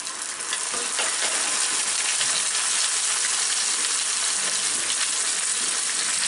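Onion paste fries in hot oil for a Bangladeshi steamed egg korma, producing a dense, continuous hiss and crackle that stays loud and even throughout, with no voices.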